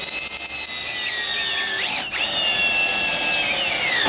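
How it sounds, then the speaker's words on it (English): Power drill with a small pilot bit boring through the hood and core support of a 1980 C10 truck, a high whining motor with a short dip as the bit breaks through, then whirring on steadily. "Drill through the hood, through the core support with the pilot bit."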